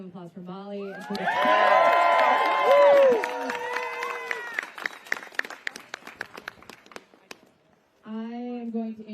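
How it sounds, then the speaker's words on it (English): A crowd at a "Save The Post" rally claps and cheers, swelling loudly then thinning into scattered claps, with voices talking before and after. "Can we get one more round of applause for Molly?"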